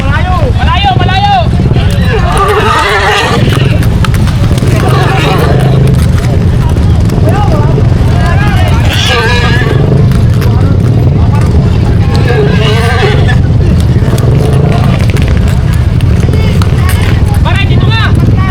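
A horse race in Tayabas, with horses running amid a noisy roadside crowd; hooves thud and rumble beneath constant excited shouting and babble, while engine noise also drifts through.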